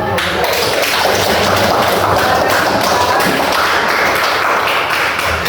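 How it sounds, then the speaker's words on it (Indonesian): A classroom audience of students applauds a presenting group, a dense continuous burst of clapping that stays loud and even throughout. "Kita beri aplaus."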